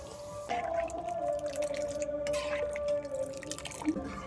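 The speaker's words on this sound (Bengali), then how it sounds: "ডালটা সিদ্ধ হয়ে গিয়েছে এবার ঘুটে নেব জল দিয়ে দেবো" Water goes into boiled red lentil dal in a pot as it is stirred, making faint liquid sloshing and dripping sounds with a thin, steady tone behind them.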